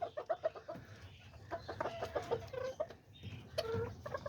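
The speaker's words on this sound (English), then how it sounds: "My little rooster right here." A small pet rooster, a little bantam-type cock kept in a backyard pen with chickens and pigeons, gives a run of short clucks close by, some quick and clipped, others drawn out, with brief pauses between bursts.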